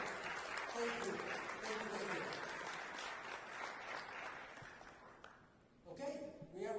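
A crowd applauds steadily for several seconds, the clapping dense and continuous before fading, then a voice begins speaking.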